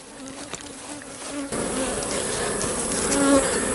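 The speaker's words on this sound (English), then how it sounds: "Only thing you got to worry about is plenty of bees in there to grow a big enough colony for the winter." Honey bees buzzing in an open beehive during a fall colony split, a steady dense hum that swells louder partway through and continues close and unbroken.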